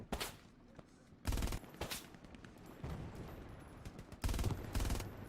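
Gunfire in the Hell Let Loose video game: several loud bursts of rifle and machine-gun shots crack out in clusters, with quieter distant fire and rumble between them.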